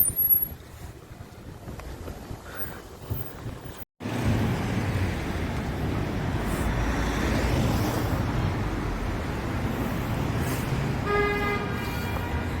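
Heavy traffic crawling through a jam in central Ulaanbaatar, Mongolia: a steady, loud roar of engines and road noise, with a short horn toot near the end.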